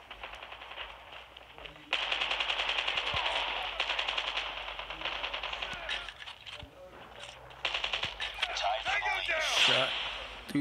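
Rapid automatic gunfire bursts crackle in the mobile shooter game Call of Duty Mobile, coming in repeated sustained volleys with short pauses and a few single shots, with a voice speaking partly over the firing.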